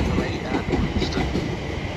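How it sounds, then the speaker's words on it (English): A London Overground train rumbles steadily into the platform at Harrow and Wealdstone station. The low, continuous rolling noise is fairly close and stays even throughout, with faint rail clatter and no voices. "Now approaching platform 2 is the 12:32 London Overground service to Euston"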